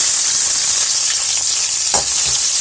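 Onion, ginger, green chili, fennel seed and a bay leaf fry in hot oil, giving a loud, continuous close sizzle with soft stirring scrapes throughout.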